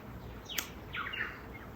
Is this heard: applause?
no